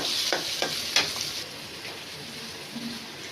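Potatoes, tomatoes and peas fry in a hot pan with a steady close sizzle, while a few distinct stirring scrapes land in the first second before the hiss settles into an even, quieter crackle.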